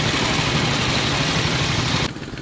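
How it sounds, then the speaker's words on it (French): Vintage Motobécane motorcycles, from the French maker founded in 1924, idling together at a gathering in Soustons, a dense steady engine rumble that drops in level near the end. "Un moment unique au son des modèles de la marque française mythique Moto Bécane, née en 1924."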